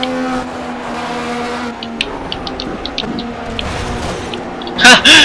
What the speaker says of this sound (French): je dois me concentrer sur le bruit du moteur.